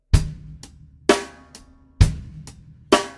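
A drum kit plays a short groove with hi-hat accents on the downbeat: strong kick-and-cymbal hits on each beat, lighter hi-hat taps between them, close and clear with no voices.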